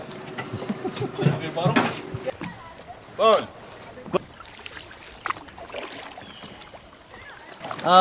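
A kayak paddles through Nikko Bay, Palau, with soft splashes and water swishes from the paddle strokes. A louder sloshing burst comes midway, and voices are heard intermittently over a light breeze.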